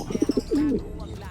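Pigeons give a brief, soft call at close range: a few quick low pulses, then a drawn-out warbling coo.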